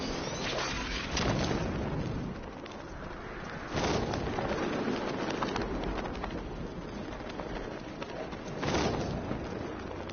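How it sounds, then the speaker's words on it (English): Steady heavy rain in the Batman: Arkham Knight video game on Halloween night, a dense continuous wash with a few louder swells and distant low booms, no voices. "What's with all the rain?"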